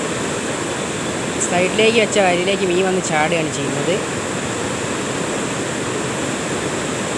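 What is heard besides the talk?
rushing river water through opened dam shutter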